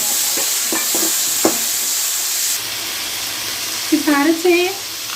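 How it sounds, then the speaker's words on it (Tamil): Onion, tomato, coriander leaves and two green chilies sauté in a pan with a steady, hissing sizzle. The hiss eases partway through, and a brief voice is heard near the end. "அடுத்து தக்காளி, மல்லி இலை, 2 பச்சை மிளகாய் போட்டு நல்லா அதையும் வதக்கிடுவோம்"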